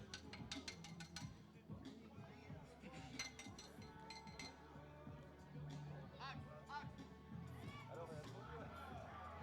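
The bell inside the ball rattles and clinks repeatedly as it rolls and is kicked during a blind football (cécifoot) match between Schiltigheim and Mälarhöjden, heard under continuous talking and crowd noise.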